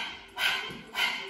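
A person imitates a dog's panting during a yoga breathing exercise, pushing two quick, rough bursts of breath with a short pause between them, close and fairly quiet.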